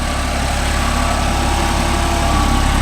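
A Deutz-Fahr 80 hp 4WD tractor engine runs steadily while pulling a five-point cultivator through farmland, a loud, low, even drone with no drop in pace.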